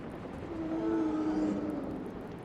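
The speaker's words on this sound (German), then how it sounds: "ich höre den Hubschrauber da oben" A helicopter droning overhead in the video game Still Wakes the Deep, a steady low engine hum with a faint rising and falling tone, distant and continuous.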